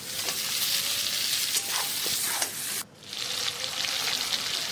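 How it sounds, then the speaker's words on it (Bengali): Mutton pieces fry in oil for biryani, sizzling loudly and close in a continuous hiss. Stirring scrapes and clinks break in now and then, with a brief dip partway through before the frying roars back. "মাটনটা ভালো করে নেড়ে চেড়ে তেলের মধ্যে ভালো করে ভাজা ভাজা করে নেব।"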